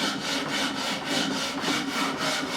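Coarse sandpaper is worked back and forth on the fingerboard of a Warwick Corvette Double Buck bass neck, giving a loud, close, rhythmic rasp of roughly five strokes a second.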